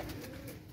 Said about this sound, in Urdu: دیکھیں کیسا وریام نیلا کبوتر ہے ماشاء اللہ